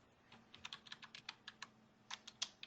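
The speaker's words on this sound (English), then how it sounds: "who's typing right now?" Someone types on a computer keyboard during a podcast recording, producing quiet, uneven bursts of clicky keystrokes with a short pause in the middle, under a faint background hum.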